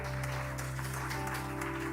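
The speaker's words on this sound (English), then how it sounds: "And just to continue that clapping" A church congregation applauds in a continuous, even wash of clapping that fills the room from start to finish, with no voices standing out.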